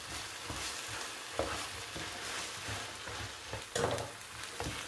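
A spoon stirs stuffing mixed with paprika or chili spice in a pan, giving a steady textured scraping with a soft sizzle underneath and a few louder clanks and scrapes, close and alone.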